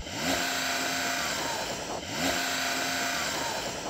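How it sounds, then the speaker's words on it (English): Porsche car engine revving twice in quick succession, each blip rising sharply then holding a strained whine, heard moderately loud and alone. "So I'm going to rev up this Porsche"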